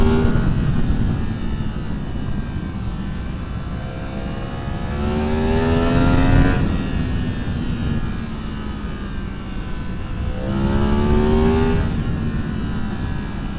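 A sport motorcycle, either a 2023 Yamaha MT-10 or a 2022 Triumph Street Triple RS, accelerates hard in second gear. The engine note climbs in two loud, rising surges over a steady rumble, with no voices.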